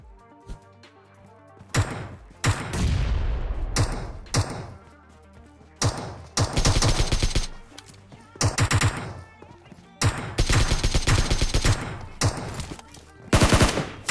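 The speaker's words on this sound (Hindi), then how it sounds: "बोट पीछे मेरे गोलियां बजाया जा रहा है" A bot fires at the player from behind in a solo-versus-squad shooter video game, sending repeated loud bursts of gunfire in separate volleys with short quiet gaps between them.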